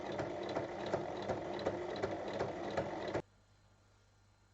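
A sewing machine topstitches along a zipper pouch in one steady, rapid mechanical run of about three seconds, then stops abruptly, leaving near silence.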